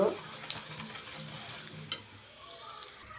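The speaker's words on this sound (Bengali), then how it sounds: "এখন দিয়ে দেব চিরা চিরাগুলো দিয়ে ভালো করে ভেজে নেব" Flattened rice fries in hot oil in a pan, a light crackling sizzle with a few sharp ticks and stirring scrapes, moderately close and fairly quiet.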